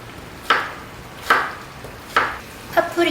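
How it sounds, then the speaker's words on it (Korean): A knife chops vegetables on a cutting board for fried rice and pasta: four crisp, evenly spaced thuds about a second apart, close and clear. "야채들은 지금 한 번에 잘라서 반씩 나눠 놓을 거예요"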